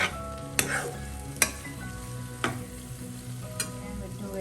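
Prawns and small onions stir-fry in a pan, a soft steady sizzle with a few sharp spoon clinks scraping against the pan, fairly quiet and close.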